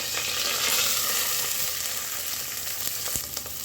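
Steady sizzling and crackling of onions frying in hot oil, close up, with occasional faint stirring sounds; no voices.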